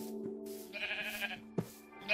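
Sheep in the Minecraft video game bleat in short, wavering calls, two or three close-up bleats in quick succession over a quiet background.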